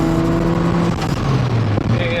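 A Datsun 280Z with a 2JZ engine swap cruises along, its steady engine drone and road noise continuous and loud inside the cabin, with faint interior rattles mixed in and a voice talking over it.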